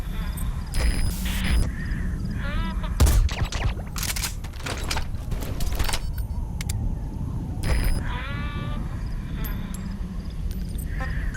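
Sniper rifle shots from Metal Gear Solid 5: The Phantom Pain ring out as a few sharp broadband cracks over continuous game ambience and mechanical clatter, fairly loud and close.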